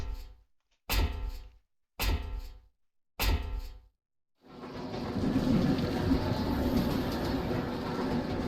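A train runs in the game Resident Evil 0. Three heavy, evenly spaced metallic clunks separated by silence lead into a continuous, loud rolling rumble of the moving train.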